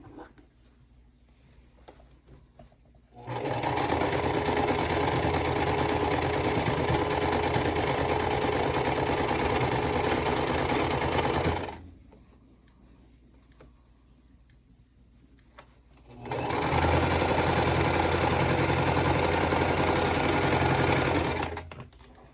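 A sewing machine stitches quilt block pieces in two long, loud, steady whirring runs, separated by a quiet pause and preceded by a short lull, with no talk.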